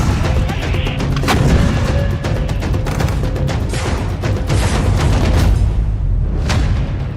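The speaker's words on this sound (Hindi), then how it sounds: "यहां लगातार धमाके हो रहे हैं" Continuous rumbling booms and sharp cracks of explosions and gunfire along the Israel-Lebanon border, dense and loud with repeated impacts layered over a heavy low roar, no voices.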